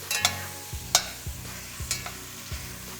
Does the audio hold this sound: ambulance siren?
no